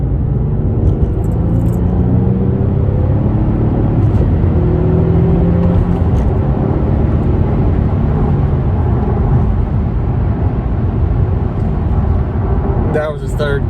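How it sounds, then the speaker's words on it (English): A 2008 Infiniti G37S sedan pulls hard in third gear from inside the cabin. The steady engine roar and road rumble hold strong and loud throughout, then cut off abruptly at the end. "That was a 3rd gear pull."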